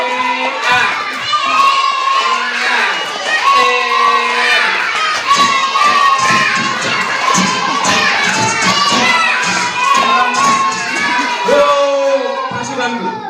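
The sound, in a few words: children clapping and shouting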